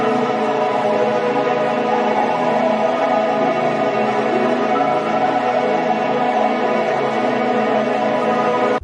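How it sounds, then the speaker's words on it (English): A huge, atmospheric synth pad for future garage swells as a dense, sustained wash of layered tones, steady and loud from start to finish with no voices over it. "Grab yourself a huge atmospheric pad"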